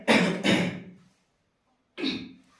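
A person coughing twice, close and fairly loud, with a short pair of harsh bursts followed by a pause and then a third single cough.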